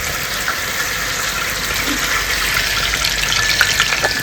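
Beguni, battered eggplant fritters, frying in oil, giving a steady close hiss and crackle with a few brief pops and no voices over it.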